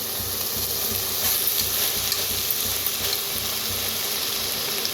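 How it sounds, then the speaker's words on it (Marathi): Masala fries in hot oil in a pan with a dense, steady sizzle and hiss, a constant close sound with faint stirring underneath and no voices. "भाजून घेऊया असं तेल आता भारी दिसतंय"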